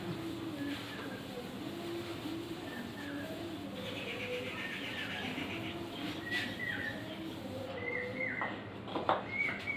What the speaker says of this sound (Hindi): कोयल कूकू कर रही है